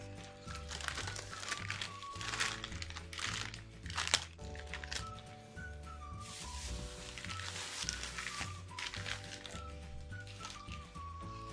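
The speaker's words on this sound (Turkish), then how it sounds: "Ve diğer kalan kısmından yine poşetimize koyuyorum kurumaması için." A plastic bag crinkles as leftover phyllo dough for baklava is packed into it, producing irregular near crackles and rustles over an ongoing tonal background hum.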